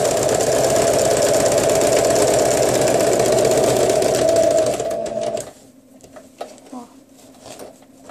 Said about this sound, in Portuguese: Passei uma costurinha em toda a volta, ó, no plástico.